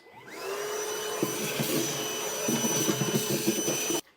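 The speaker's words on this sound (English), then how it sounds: "Now we'll just come back through and clean up all of our shavings with our vacuum." Steady, loud whine of a vacuum cleaner picking up metal drill shavings while a 5th wheel installation kit goes into a 2014 Ford truck, with rattles and clicks as debris is sucked in, then the motor cuts off.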